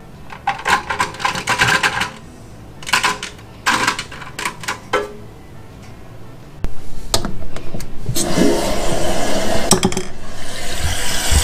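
A Glacier Bay two-button toilet is worked by hand: bursts of clattering and clicking from its parts come first, then a loud, close rush of flushing water that continues to the end.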